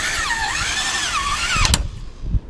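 A power drill re-drilling a hole in an old boat, its motor whining and rising and falling in pitch, then cutting out with a couple of sharp knocks near the end.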